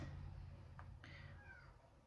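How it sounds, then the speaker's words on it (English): A house cat meows faintly a couple of times in the background, short thin cries over a low steady hum indoors. "If you hear my cat crying, it's because they went in."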